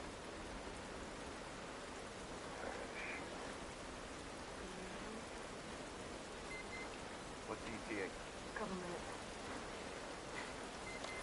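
Steady rain hisses throughout a rainy scene in the video game The Last of Us Part I, with faint short bursts of talk over the continuous wash.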